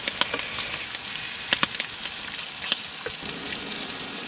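Bacon and eggs fry in an induction frying pan, giving a steady close sizzle with occasional sharper pops and spits throughout.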